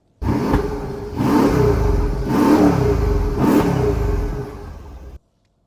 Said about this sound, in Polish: Słyszeliście te wydechy?